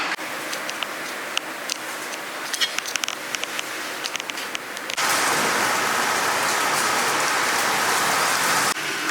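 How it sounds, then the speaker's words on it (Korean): Morning rain in Korea falls steadily on surfaces, a dense, even patter that swells noticeably louder and closer partway through, with no voices. "비가 내리는 아침입니다."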